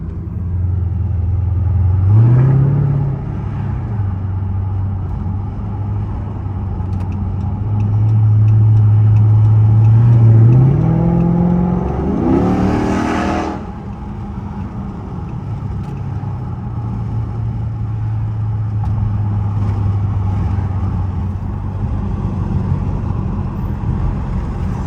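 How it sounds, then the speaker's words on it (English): A 480 hp Dodge Charger SRT8 engine rumbles from inside the car, idling deep and loud, then rising in two revving surges before dropping back to a low steady drone. "We got a Charger SRT Hellcat right there."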